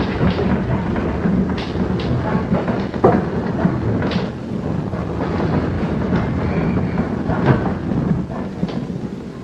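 A train rolls along rails in an old black-and-white film, a continuous rumbling clatter with periodic knocks and hiss, steady and fairly loud throughout with no voices.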